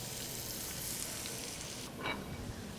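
Shallots fry in reserved bacon oil in a pan, a steady, close sizzle that crackles on without pause, with a brief stir near the end.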